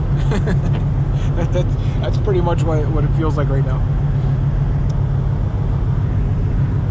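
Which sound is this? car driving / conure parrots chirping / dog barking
car driving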